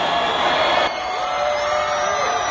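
Stadium crowd roars and cheers for Deportivo Pereira at the 2023 team presentation, a dense continuous wash of voices that dips slightly partway through but stays loud throughout.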